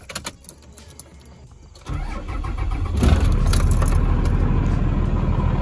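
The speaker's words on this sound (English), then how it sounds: "I'm going to start Nasty Red first so it can warm up for our trip back." An old tractor engine being started: a few clicks and rattles, then the engine catches with a sudden rise into a low rumble that swells louder about a second later and settles into a steady, close running note.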